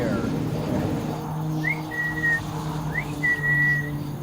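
Eerie children's whistling, two thin rising then held whistle tones a second apart, faint and somewhat distant over a low droning background hum.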